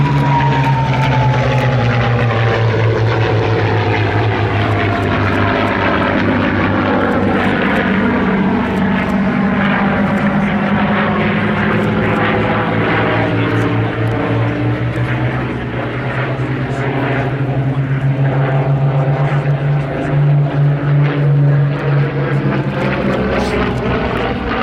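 Mustang warbird with red tail colours flies past at an airshow trailing smoke. Its loud propeller engine drone sweeps by and holds for a long stretch, pitch shifting as it passes, with faint voices underneath.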